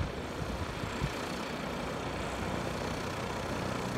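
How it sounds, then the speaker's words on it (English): Piper light aircraft idling on an airport tarmac with its engine running: a steady, fairly faint low rumble and drone, continuous and even throughout, with no voices. "You can hear the piper sitting on the tarmac with his engine running."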